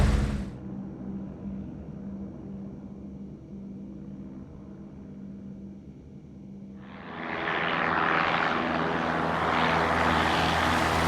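Propeller airplane taking off in the X-Plane flight simulator, departing Skagit airport: steady engine drone that swells into a louder, broadband roar partway through as it climbs, heard alone.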